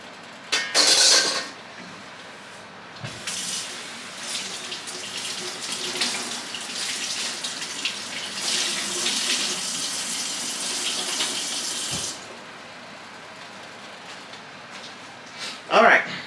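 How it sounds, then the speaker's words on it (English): Tap water runs steadily from a kitchen faucet onto a dish rag for about ten seconds, a close, even hiss with brief louder splashes near the start and the end. "let me get my dish rag, put a little bit of water on here"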